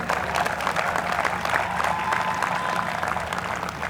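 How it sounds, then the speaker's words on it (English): Convocation-ceremony audience at FLAME University's 17th convocation giving a round of applause, with dense, even clapping from a large crowd that holds steady for several seconds, with faint voices mixed in. "Can we please have a round of applause?"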